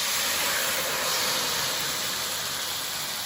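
White wine pours into a hot pan of cooked onions and garlic, giving a steady, loud sizzling hiss that holds evenly from start to finish with no talking.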